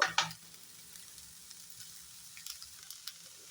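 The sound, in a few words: onions being stirred and fried in a pan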